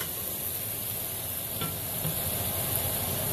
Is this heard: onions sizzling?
yes